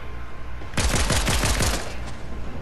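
A rapid burst of gunfire in Fortnite, roughly six or seven sharp shots fired in quick succession, loud and close, standing alone without talk.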